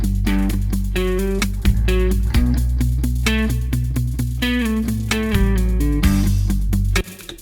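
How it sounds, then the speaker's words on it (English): An Ableton drum groove with a glitchy hi-hat layer that bounces side to side and randomizes, playing loud and steady alongside tonal, distorted synth parts before cutting off near the end. "You hear the hi-hat bouncing side to side and randomizing."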